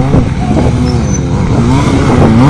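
Several motorbikes arrive together at an outdoor biking event, their engines loud and close in a continuous rumbling drone with slight pitch shifts as they move, no voices over them.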